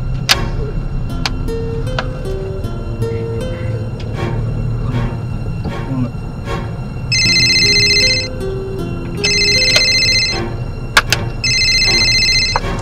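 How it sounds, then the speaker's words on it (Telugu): A phone rings with a bright electronic tone in three repeated bursts over steady background music and clicking sounds in a village home. "ఫోన్ ఎవరు చేస్తున్నారు?"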